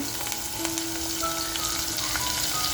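Green chilies and coriander crushed together and dropped into hot oil in a pan for a pulao, giving a steady, close, loud sizzle and crackle throughout with no talking.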